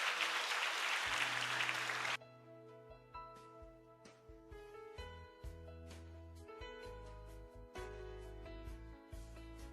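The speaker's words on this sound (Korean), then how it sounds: "나오실 때 큰 박수로 맞이해 주시면" An audience at a school admissions information session claps loudly for the incoming vice principal, a dense burst of applause that stops abruptly after about two seconds, followed by sustained music.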